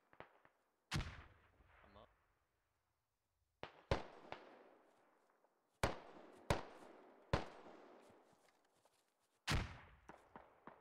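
Gunfire in the tactical shooter game Squad Ops: around eight sharp, cracking shots at irregular intervals. Some are loud and close, others fainter, and each decays quickly into a brief tail.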